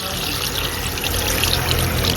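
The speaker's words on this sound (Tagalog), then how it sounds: "Lagyan na natin ng tubig to para ma-pressure natin." Water poured into a pressure cooker holding pork belly for sinigang, a close, continuous splashing stream that keeps steady and grows slightly fuller over two seconds.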